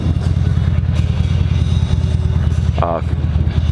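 A Buell XB9R Firebolt motorcycle engine idles with a deep, lumpy, pulsing rumble, loud and close, with a brief voiced sound breaking through near the end.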